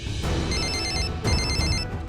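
A telephone rings with a repeating electronic trilling ringtone, two close bursts that are fairly loud and steady, with no talking over them.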